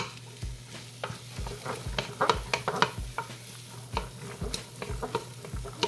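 Onions sizzle in oil while a spoon scrapes them off the sides of a soup pot, giving a soft continuous frying hiss with repeated close, irregular stirring clicks and scrapes.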